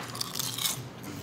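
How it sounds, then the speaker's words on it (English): A few loud, close crunching bites into house-made fried chips (frips) at a Chicago hot dog restaurant, crisp and sharp, with no talk over them. "That crunch was so loud."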